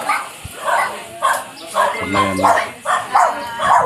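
Dogs bark and yip repeatedly at a free pet vaccination event for dogs and cats, short bursts recurring throughout at close range, mixed in with a person talking over them.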